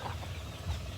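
Turkeys and native chickens on a backyard farm make a brief, soft burst of low clucking calls.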